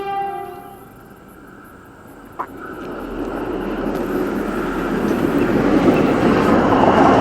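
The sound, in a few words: train passing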